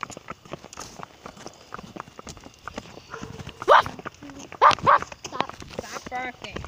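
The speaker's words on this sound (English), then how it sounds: "Stop barking." A dog barks in a few short, sharp bursts close by during an outdoor walk, over a rhythmic clip-clop of hooves and scattered background noise.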